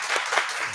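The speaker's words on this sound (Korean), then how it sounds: "우리 사모님이 박수하자는데" A church congregation claps together during a Sunday morning service, a brief burst of steady, fairly loud applause from many hands in the room.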